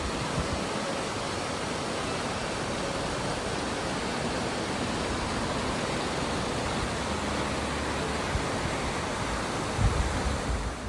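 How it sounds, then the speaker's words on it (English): A cascading river flowing beneath a historic Parador on the Camino Primitivo in Spain, a dense, steady roar of rushing water filling the scene, loud and continuous without talk. "flowing under it is an awesome cascading river that I just love the sound of"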